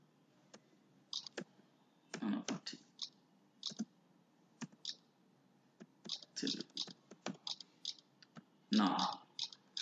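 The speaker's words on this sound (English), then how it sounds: "Now I'm entering some name as a Ramesh." Computer keyboard typing a name into a sign-up form, quiet irregular keystroke clicks in short clusters with pauses, with faint speech-like sounds between them.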